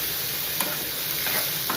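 Chopped tomato frying in hot oil in a pan for an okra dish, a close, steady sizzle with faint stirring taps throughout.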